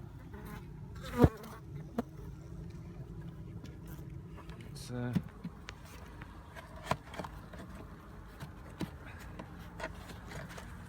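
Honeybees buzz softly near and around a hive, with faint scattered knocks and clicks over a quiet, low background hum.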